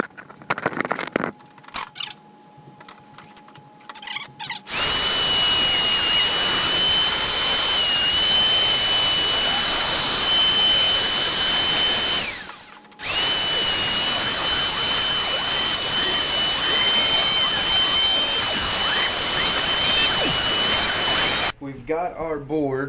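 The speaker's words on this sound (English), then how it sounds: "we're going to take a router with, I think it's like a 1/4 inch round over bit," A handheld router with a 1/4 inch round-over bit softens the edges of a wooden coat-rack board, a loud, close, high-pitched whine running steadily for long stretches with one short pause. Faint handling noise comes before it starts.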